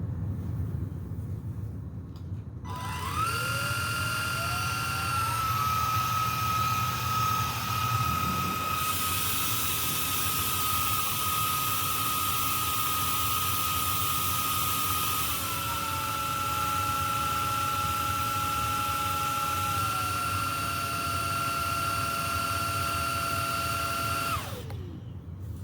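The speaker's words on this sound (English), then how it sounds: "I'm going to run the power nozzle suction test at the highest power level" An Oraimo S2 vacuum cleaner with its power nozzle runs at its highest setting, a steady loud whine with shifting motor pitch that ramps up and down, alone and near throughout.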